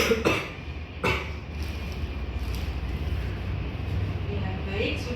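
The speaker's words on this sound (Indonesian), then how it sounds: "Nah yang terakhir, Bapak keluarkan sambil batuk ya, seperti tadi." A patient doing an effective cough exercise in a nursing practice session coughs forcefully twice near the start, then breathes out against a steady low background rumble.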